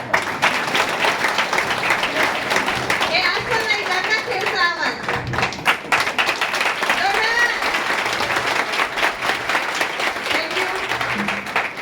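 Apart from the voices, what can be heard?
audience applause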